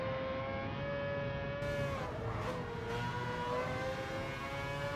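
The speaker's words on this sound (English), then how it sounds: "listen to those engines" Car engines in a video game trailer whine and rev in a high, sustained, rising drone that sounds like racing cars, with no speech.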